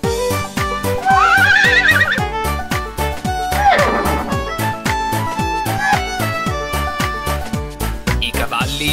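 A horse neighs and whinnies several times within an Italian farm nursery rhyme, riding over a steady, loud clip-clop beat and music throughout.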